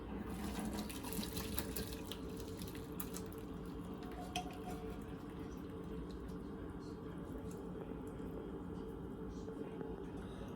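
Steady rush of cooking water pouring and draining from cooked tomatoes, continuous and fairly close, with no breaks over the whole stretch.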